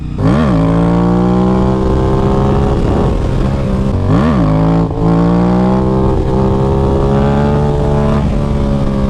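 A Suzuki V-Strom 1000 motorcycle engine roars loud and close during a wheelie, its pitch climbing in repeated revs with brief dips between, steady and alone with no voices.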